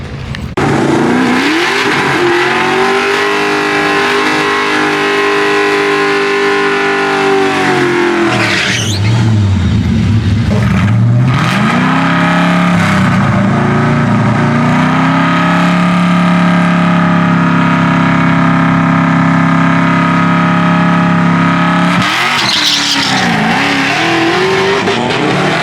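A cammed 2V drag race car roars through a full pass, its engine climbing through gears with sharp drops at each shift, loud and continuous for over twenty seconds before a final burst near the end.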